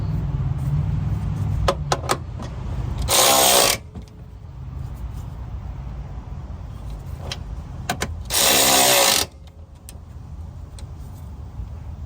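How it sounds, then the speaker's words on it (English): Nuts being tightened on the lower driver-side transmission mount of a 2.4L Honda Accord: quick clicking ratchet strokes and metallic ticks close by, with two loud bursts of an impact or power tool, no talking. "I'm gonna go ahead and make sure to bolt it down first with the nuts"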